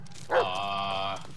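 A dog barks once in the Blair Witch video game, a single sharp bark followed by a sustained whine-like tonal call, heard alone against a low steady background hum.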